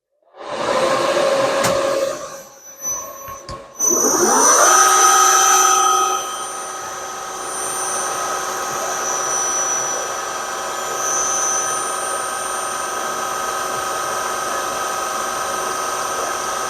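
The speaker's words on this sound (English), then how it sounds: "we're going to be conventional milling, not climb milling" A rotary table milling cutter conventional milling metal in a workshop, spinning up with a rising whine, then a steady, sustained high-pitched machining drone.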